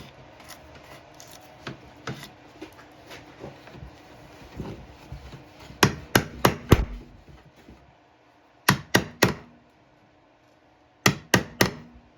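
A chisel cleans up the shoulder of a wooden tenon, starting with soft scraping and paring, then crisp mallet taps landing in quick clusters of three or four, separated by quiet pauses.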